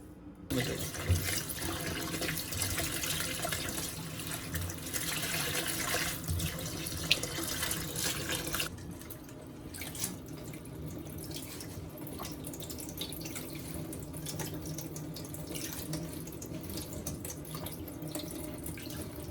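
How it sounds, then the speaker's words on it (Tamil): Running tap water splashes steadily into a sink for the first half, then continues more softly with light dripping and handling sounds. "இதை நல்லா தண்ணியில் கழுவி எடுத்துக்கலாம்."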